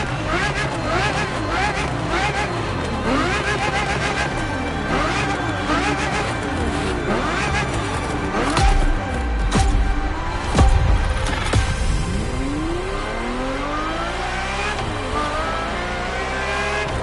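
A Ferrari F50 supercar in the racing game The Crew Motorfest revs hard, its engine note climbing and falling through repeated sweeps, loud and close, with a narrator's voice running beneath the engine.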